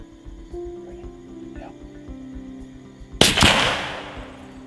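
A single sharp rifle shot cracks out during a deer hunt in brushy cover, loud and close, ringing into a noisy tail over a steady low outdoor hum, with no talking.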